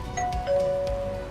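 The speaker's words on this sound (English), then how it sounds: "Then the doorbell rang again." A doorbell on a house sounds a two-tone ding-dong chime during a Halloween night, the first tone short and the second held and ringing out, clear over a quiet indoor background.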